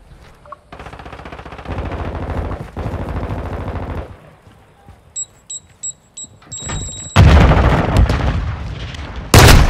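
Automatic and single gunfire from the video game Call of Duty: Modern Warfare II comes in loud bursts, with short electronic beeps in between and a heavy closing barrage, and no one speaks.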